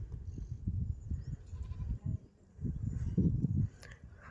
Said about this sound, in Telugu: చూడండి గొర్రెలన్నీ ఈజీగా అటు వెళ్ళిపోయాయి ఇంకా పిల్లలన్నీ ఇటు ఎంత బాగా వెళ్తున్నాయో